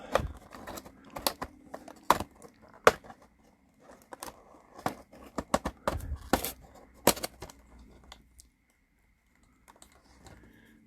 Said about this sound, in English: Go ahead and cut him out, and you can see the card's damaged.